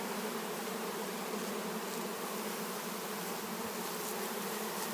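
A steady, dense buzzing of many Carpathian honeybees fills the air, continuous and close, with no voices present.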